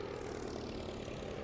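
Propeller airplanes moving across the map in the WWI strategy game Commander the Great War, a steady, unbroken engine drone held at an even loudness throughout with no talking.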